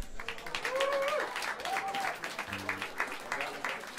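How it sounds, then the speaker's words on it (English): Audience applause at a live jazz club show, moderate clapping running throughout while a voice and brief instrument tones sound over it. "Have a round of applause for him."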